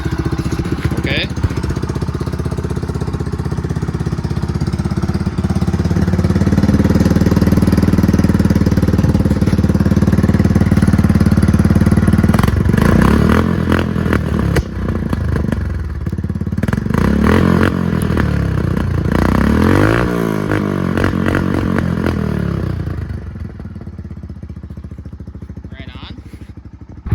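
A cold-started Honda motorcycle engine runs at a steady, loud idle close by, rising in a few revs with rattling clatter before settling back, while someone talks over it now and then.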